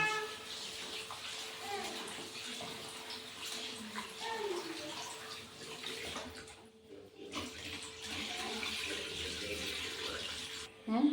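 Running tap water pours steadily into a basin with small splashes and shifting flow, briefly pausing midway before resuming, while rice is rinsed.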